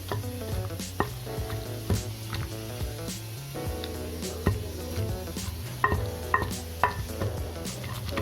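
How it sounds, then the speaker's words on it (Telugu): Green chillies, tomato and onion pounded raw in a mortar for a roti pachadi. Irregular dull thuds land every second or so beneath steady background music. "పచ్చిమిర్చి టమాటా ఉల్లిపాయ ఇవన్నీ కూడా మనం కచ్చా పచ్చగా దంచుకుంటే సరిపోతుంది"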